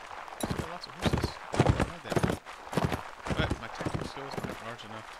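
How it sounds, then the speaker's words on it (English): Horses galloping in the medieval combat game Mount & Blade: Warband, with rhythmic clip-clop hoofbeats thudding repeatedly at a steady pace, close and moderately loud throughout. "Still lots of horses."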